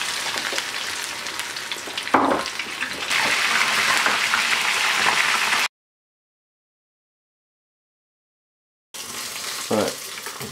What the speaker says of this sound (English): you can see the heavy frying sound has eased off